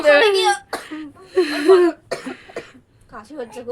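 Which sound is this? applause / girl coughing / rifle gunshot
girl coughing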